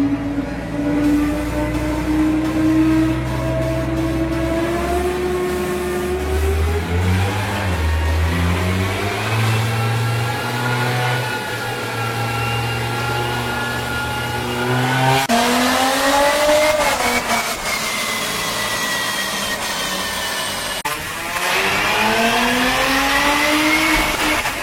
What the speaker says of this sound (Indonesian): Sekarang kita lagi mau dyno run tes tuh mobil C43 MG.